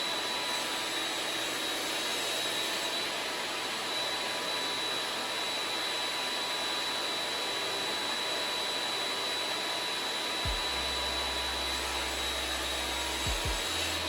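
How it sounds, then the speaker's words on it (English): A table saw with a crosscut sled slices through a wooden section for a keepsake box, a loud steady whining roar running the whole time with a few low thumps near the end. "Now we're going to use a crosscut sled to cut a section that has a pleasing pattern here near"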